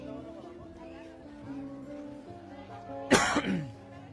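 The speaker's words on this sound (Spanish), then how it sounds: "Perdón ahí por mi tos" A single sharp cough from someone just recovering from a cold bursts out near the end, following a stretch of quiet background hum and faint voice-like tones.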